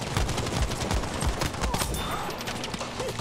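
Gunfire in Battlefield V, where a recon sniper lines up a headshot, with sharp, loud shots in quick bursts over a dense battlefield din.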